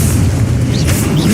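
An Exposo explosion spell in Hogwarts Legacy lets out a loud, sustained booming rumble that fills the whole moment, close and heavy.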